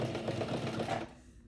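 Home sewing machine stitching fabric for a checkered bag with the foot pedal pressed, a close, steady rapid whirring hum that runs for about a second and then stops.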